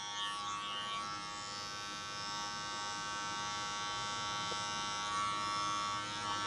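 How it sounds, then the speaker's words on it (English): Electric hair clippers fitted with a number 1 guard buzz steadily and close up through a short haircut, a continuous even hum with no talking. "place your clippers straight into the head and go up then"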